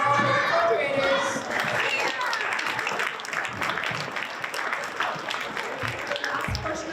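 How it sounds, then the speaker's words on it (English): An audience at a school information night applauds elementary third and fourth graders, a broad crowd clapping that starts strong and carries on under voices and chatter in the room. "Another round of applause for our third and fourth graders."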